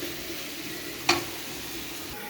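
Tomato curry fries in a generous amount of oil, a quiet steady sizzle with one brief sharp clink of a stirring spoon midway, no voices.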